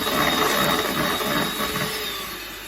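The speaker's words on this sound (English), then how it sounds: "And then I'm just going to whisk this together." Eggs are whisked together in a bowl for a gluten-free tea loaf batter, giving a steady, continuous whirring and rattling that stays close and fairly loud throughout.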